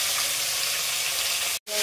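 Fish frying in a pan and being turned over, a dense loud sizzle that fills the whole moment and breaks off briefly near the end before resuming.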